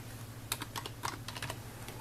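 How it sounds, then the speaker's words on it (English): A zip code is typed on a computer keyboard: a short burst of several faint, crisp key clicks in an uneven rhythm over a low steady hum, with no talking. "Type in the zip."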